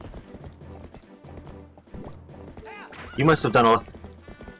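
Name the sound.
horse Epona galloping in Zelda Twilight Princess HD video game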